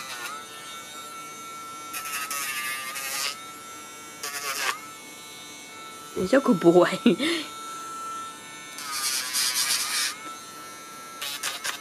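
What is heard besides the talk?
Dremel rotary tool grinding a Cavalier dog's nails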